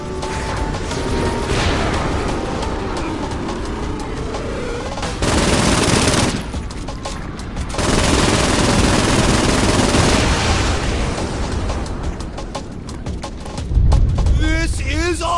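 Rapid video-game gunfire aimed at incoming UFOs, sustained bursts and booms filling the scene with a dense, loud barrage, with excited voices over the shooting.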